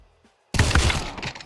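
A burst of rapid gunfire in Counter-Strike 2 erupts after a brief near-silence, loud and dense, with overlapping shots continuing to the end.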